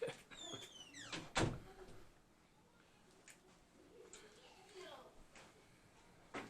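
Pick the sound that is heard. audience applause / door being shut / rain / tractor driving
door being shut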